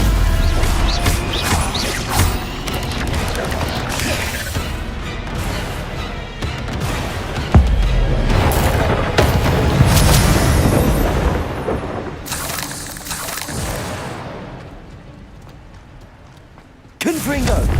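Combat spells clashing in Hogwarts Legacy, Protego shielding and Stupefy stunning: repeated crashing, thwacking impacts and booms in close succession, loud and busy, with a brief lull before a sharp final hit.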